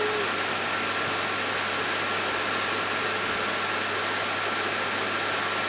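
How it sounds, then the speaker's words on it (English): A steady, low hum from the air conditioning inside an electric school bus, with broadband hiss running unchanged throughout, no voices or other events breaking through. "Some of the airs, you can barely hear the low hum."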